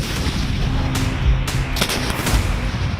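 Several heavy booming blasts of Indian Army artillery go off one after another, loud and sharp-edged, with rumbling tails between them and no voices.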